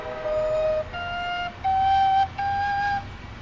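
Four rising notes on a four-hole Cherokee whistle, each held about half a second with short breaks between, clear and close with a breathy edge.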